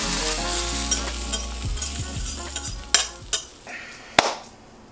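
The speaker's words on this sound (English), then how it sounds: "so much oil splattering" Hot oil sizzles and splatters steadily in a frying pan, with a few sharp pops and clanks of a utensil against the pan standing out near the end.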